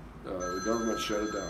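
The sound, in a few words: telephone ringing during live radio interview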